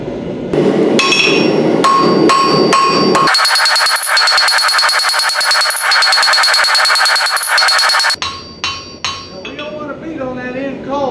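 Hot steel is hammer-forged into a taper for a marble-handled cheese slicer, with loud, ringing anvil blows. Isolated strikes come first, then a fast continuous run of blows, then a few final strikes with a voice talking underneath.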